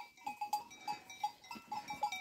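Sheep grazing in a grassy field at sunrise give off a run of soft, rhythmic pulses, faint and fairly close, with light bell-like tones among them.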